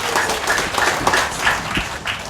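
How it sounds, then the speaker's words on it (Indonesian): Applause from an audience at a Koppasindo declaration event, a steady dense patter of clapping at moderate level with no talk over it. "Tepuk tangan untuk semuanya."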